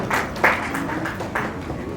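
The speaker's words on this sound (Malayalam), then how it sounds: "നമുക്കൊരു കയ്യടി കൊടുക്കാം." Audience applause at a trailer launch event for Summer in Bethlehem, heard as moderate, steady clapping from a crowd in a hall, with a few louder bursts standing out.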